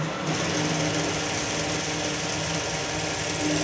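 A tailor's sewing machine runs steadily while stitching a front panel onto a garment, a continuous close mechanical whir that carries on unbroken for the whole stretch with no talk over it.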